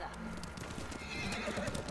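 Horse in Ghost of Tsushima whinnying while hooves clip-clop, close and loud, with a voice talking over it.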